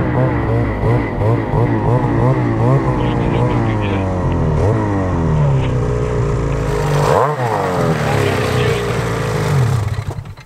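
A BRP snowmobile engine fitted with a cheap Aliexpress variator belt revs hard and loud, its pitch climbing and falling repeatedly with a brief drop near the end, running continuously without talk.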